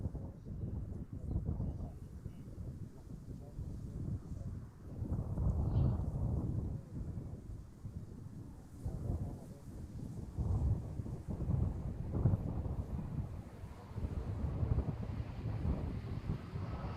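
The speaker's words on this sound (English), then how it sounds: "Wind is picking up a little now." Gusty wind buffeting the microphone outdoors at Amsterdam Schiphol Airport, a low rumbling roar that rises and falls in repeated waves and stays loud and close throughout.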